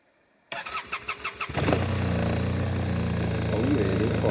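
An Arctic Cat Norseman 3000 snowmobile engine turns over in a series of starter pulses, then catches and settles into a steady, fairly loud idle close by, its low hum running on alone.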